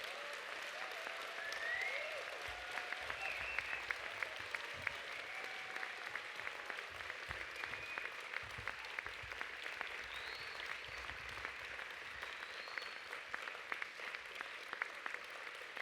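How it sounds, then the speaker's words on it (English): A large audience gives graduates a long, warm round of applause at a Faculty of Science, Medicine and Health graduation ceremony, dense continuous clapping with a few faint whoops and cheers rising above it. "please join me in congratulating our graduates by giving them a warm round of"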